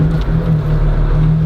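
Lotus Exige V6 S engine while driving, a loud, close, deep steady drone with a strong low hum and no voices over it.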